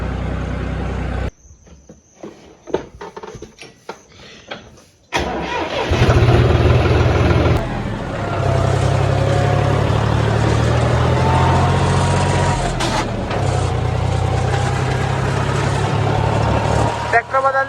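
A 3710 tractor is cranked and starts during sowing on a rain-wet field: sputtering attempts, then the engine catches and settles into a loud, steady diesel idle with a low throbbing hum, while insects chirp faintly in the background.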